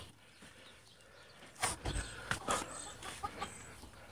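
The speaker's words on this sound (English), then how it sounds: "that's the sound of a chicken sneezing" A chicken sneezes several times in quick, sharp sputters against a quiet background, the bursts spaced about half a second apart.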